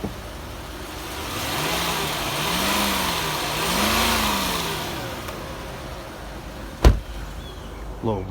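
A Lexus LS430 revved twice close by, its engine note climbing and falling in two smooth blips over a steady idle, followed by a sharp thump and a softer knock.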